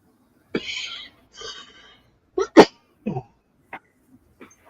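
A person sneezes once, a short sharp burst standing out among scattered breathy vocal sounds and brief voice fragments at close range.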